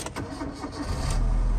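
An imported manual-transmission Hyundai Getz with a 1.4 litre engine cranks briefly and catches, settling into a steady, close idle rumble; no talking.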